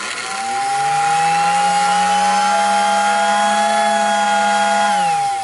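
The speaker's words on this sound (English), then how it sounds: "Do you hear how it goes into a two-tone whistle right there at the end?" A loud, steady mechanical whistle from a Lionel 48W whistling station toy train accessory holds one sustained tone with harmonics, shifting into two tones near the end, sounding buzzy like a power tool.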